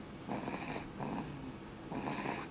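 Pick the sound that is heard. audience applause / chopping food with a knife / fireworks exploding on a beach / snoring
snoring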